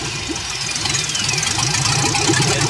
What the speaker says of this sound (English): It's idling super low, and it acts like either not enough fuel or way too much air